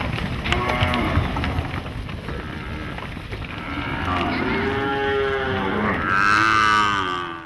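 Cattle at a cow shelter for abandoned and sick animals, several drawn-out moos rising and overlapping in the later part of the clip above steady background murmur.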